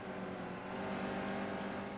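Race car engines in the NASCAR Heat 2 video game drone steadily at close range, a continuous layered roar that holds level for the whole stretch without any talk.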